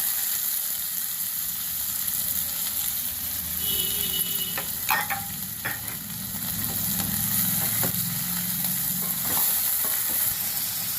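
Cashews and onions fry in hot oil for a South Indian tomato bath, a steady, close, dense sizzle that runs without a break, with faint stirring clinks scattered through it.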